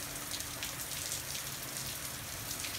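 Steady, dense rain hisses and patters loudly on surfaces in Florida, a constant downpour with no pauses or voices.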